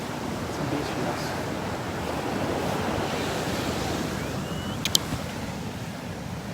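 Ocean waves on a rocky beach at sunset, a steady broad wash of surf with wind buffeting the microphone, continuous and fairly close, with a brief click near the end.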